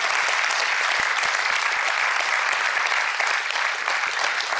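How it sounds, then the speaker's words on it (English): Audience applause at a Sitecore user group conference session, a dense, loud and continuous clapping that fills the whole stretch without pause. "So if we can give them a big round of applause for all the work that they've done today."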